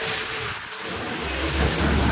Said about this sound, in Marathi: किती गारा पडायला लागल्या.